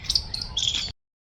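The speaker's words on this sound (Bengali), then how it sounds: "এখানে পাখির আওয়াজ বেশ হেবি সুন্দর লাগছে" Birds chirping in a park near a neem tree, with bright high tweets in quick clusters, fairly close and clear, lasting under a second before cutting off.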